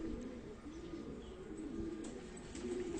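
Pigeons in a loft coo softly and repeatedly, rounded low calls rising and falling in a steady rhythm, nearby but quiet, with no talking.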